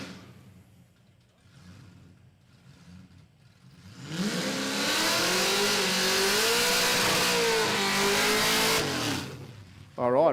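At a drag race event, a Mazda RX-8 fitted with an LSA V8 engine rises from a quiet background into a loud, sustained roaring rev with a wavering pitch that runs for about five seconds before cutting off.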